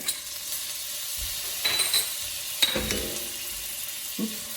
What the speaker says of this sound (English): go ahead and add some onion. Add your bit of garlic, just a little bit.